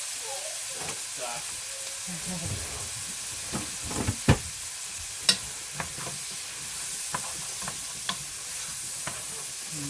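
Onions cook for an orange chicken stew, giving a steady soft sizzle and hiss across the whole stretch. A few brief clicks and taps of a utensil in the pan stand out now and then, and no one speaks.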